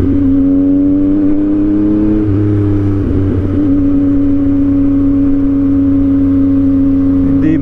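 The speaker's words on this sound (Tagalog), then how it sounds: "Testing sa natutulog nating motor." Yamaha MT-09 motorcycle engine running steadily while riding on a Sunday in traffic, a loud, close, continuous droning hum with a brief dip and shift in pitch partway through, no talk.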